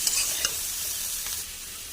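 Spices with Kashmiri chilli fry in a pan for a chickpea, potato and bottle gourd curry, a close, soft sizzle broken by a few scraping stirs near the start, with no one talking.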